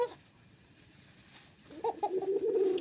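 A male pigeon in a breeding pair coos near at hand, several soft, throaty calls in quick succession after a brief quiet stretch of low background noise.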